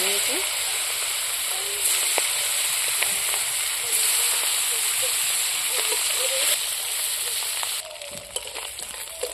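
Fish frying in hot oil in a heated kadai, a steady broadband sizzle that holds throughout with small pops and spatters, dropping slightly near the end.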